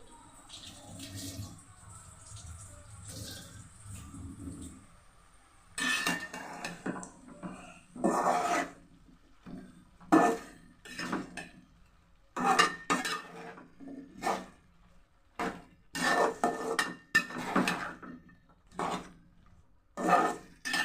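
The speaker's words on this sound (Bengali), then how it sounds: "একটু ভালো করে নেড়ে দিব।" A utensil scrapes and knocks repeatedly against a bowl while cake batter is stirred, giving a close, irregular series of clinks and soft scrapes that begins after a quieter stretch of faint background noise.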